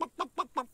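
Cartoon hens clucking in a quick series of five short, bright clucks, evenly spaced and fairly close, with no talking over them.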